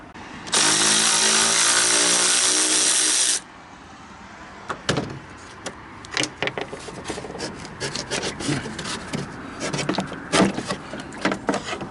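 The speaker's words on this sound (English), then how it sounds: "I'm going to take the expansion tank off just to get room down in there. It's just a 1 10mm bolt" A 10mm bolt removed from the expansion tank of a 2015 Chevy Express 4.8L van, a power tool whirring loudly for about three seconds, then irregular clicks, taps and rattles of parts being handled.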